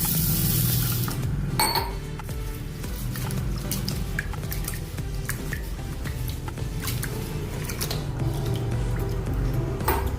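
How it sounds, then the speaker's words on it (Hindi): Basmati rice swished and rinsed with water in a metal pot, a steady wet sloshing with occasional clinks of grains and vessel, fairly close with no voices. "अभी इसको 2 पानी से धो देंगे।"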